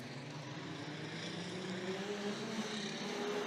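A field of street stock race cars roars off at the start of a race at Gympie Speedway, a dense, steady engine drone with pitches slowly rising as they accelerate, heard from a distance.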